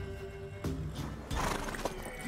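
A mare neighs in The Witcher 3: one loud, close whinny with a rising and falling call, with a few hoof clops and some game ambience around it.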